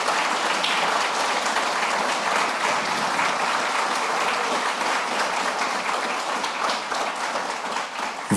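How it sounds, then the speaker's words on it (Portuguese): An audience applauds at a solemn ceremony in Botucatu where an honorary citizen title is presented. The clapping is dense and continuous for about eight seconds and stays loud and even, with no talk over it. "Aqui eu peço também uma salva de palmas,"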